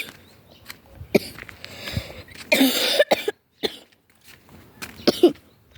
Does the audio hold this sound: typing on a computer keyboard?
no